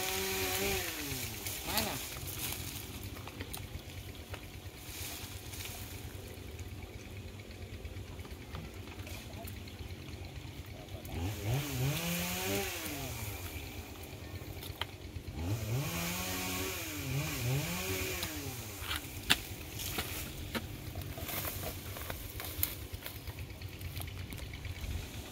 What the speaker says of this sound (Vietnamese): Rồi giờ chú mình thả cái máy cưa xuống nha.